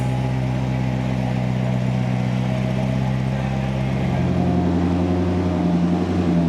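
A stock Chevrolet Corvette C7 ZR1 engine drones steadily on a dyno for a baseline run, its pitch shifting partway through as the revs change.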